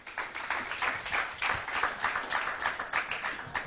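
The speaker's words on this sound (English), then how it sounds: "Clap for him." An audience claps for a correct answer at a televised quiz, the applause rising and falling in uneven waves, moderately loud and close for a few seconds.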